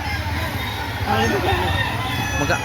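A young rooster, a stag for sale at a Lipa City, Batangas market, crows briefly amid constant background din and nearby chatter.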